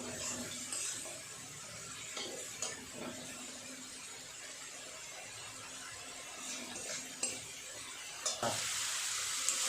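Spice paste with salt and a splash of water fries in a pan, a continuous soft sizzle under intermittent spoon scrapes and taps, ending in a louder hiss; a faint voice is present.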